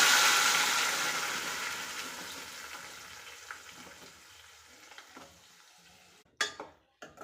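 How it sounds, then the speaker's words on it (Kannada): Ground onion-tomato masala paste hitting a hot pan for a dhaba-style paneer curry, with a loud broad sizzle at first that slowly fades, then a few sharp spoon or pot clatters near the end. "ಈಗ ಇದಕ್ಕೆ ನಾವು ಗ್ರೈಂಡ್ ಮಾಡ್ಕೊಂಡಿದ್ವಲ್ಲ ಅದರ ಪೇಸ್ಟ್ನ ಸೇರಿಸ್ತಾ ಇದ್ದೀನಿ"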